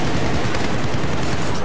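Dense, continuous gunfire in Battlefield 4, sniper rifle shots layered over a constant rumble of battle noise with no clear pauses.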